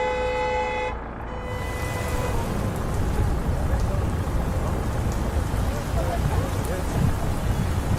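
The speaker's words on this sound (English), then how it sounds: "Storm's closer now." Heavy rain pours steadily with a thunderstorm rumbling low underneath, a dense continuous roar after a brief tonal sound fades at the start, loud and close throughout.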